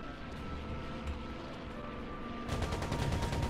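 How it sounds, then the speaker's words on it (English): Aircraft strafing runs with rapid machine-gun fire in the Air Conflicts: Pacific Carriers game, set in the Battle of the Coral Sea. A steady engine drone runs throughout, and a dense rattling burst of gunfire takes over toward the end. "Let's do some strafing runs while we wait."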